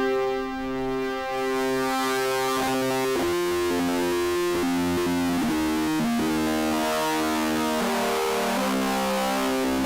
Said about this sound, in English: I had been working on circuit bending an old analog synthesizer.